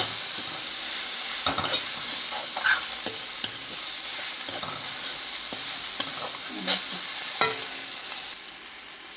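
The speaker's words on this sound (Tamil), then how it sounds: "குடமிளகெல்லாம் நல்லா வதங்கிடுச்சு." Capsicum sautés with turmeric and garam masala in a hot pan, a loud continuous sizzle broken by scraping stirs of a spoon through the vegetables.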